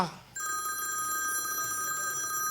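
A telephone bell rings indoors, its steady metallic trill starting abruptly after a short voiced exclamation and continuing loud and unbroken.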